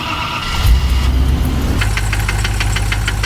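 Land Rover Discovery (Eco Challenge) with a failing engine runs loudly, a rough idle giving way to a rapid, steady knocking rattle from close by, with no talking.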